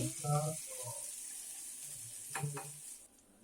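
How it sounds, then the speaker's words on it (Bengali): Curry leaves and mustard seeds frying in hot oil for a tempering give a soft, continuous sizzling hiss, with faint short bursts and clatter near the start and a quick pair of sharper crackles just before the sound drops away. "এখন কারি পাতা আর সর্ষেটা একটু ভাজা ভাজা হয়ে গেলে আমি ঢেলে দেব চাটনিটার উপরে।"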